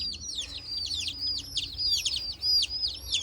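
Chicks of the Frying Pan Specials chicken breed chirping in a steady stream of high, rapid peeps, several birds overlapping close by with no talk.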